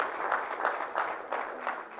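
Church congregation clapping together in a steady, fairly even rhythm, a dense run of hand claps filling the room at moderate loudness, with no voices over it.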